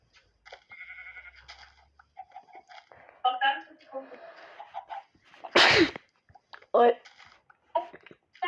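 A single loud, close human sneeze bursts out midway through, surrounded by people talking and some bleat-like vocal noises.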